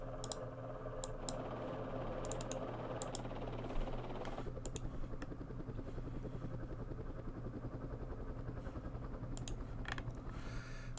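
Helicopter gunships in the Vietnam War strategy game Campaign Series Vietnam, heard as a steady low rotor drone throughout under a bed of game ambience, with scattered sharp clicks layered on top.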